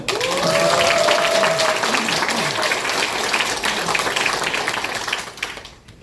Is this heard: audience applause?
yes